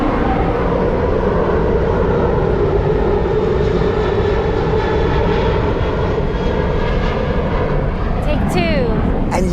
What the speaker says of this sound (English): Every 30 minutes, there's a plane taking off.